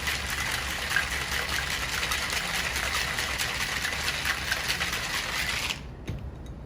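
A cocktail with egg white is shaken hard in a shaker, a loud continuous rattling swish for about six seconds that stops abruptly, leaving a brief faint clink.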